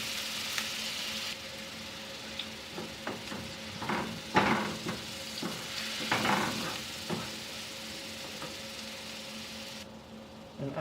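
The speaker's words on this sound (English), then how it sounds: "and then adding ginger garlic paste and saute for a while" Ginger garlic paste sautés in a pan with green chili and curry leaves, giving a soft steady sizzle with a few stirring clinks and scrapes, and no talking.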